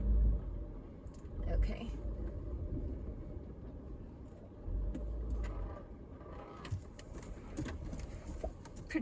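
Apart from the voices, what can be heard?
car backing up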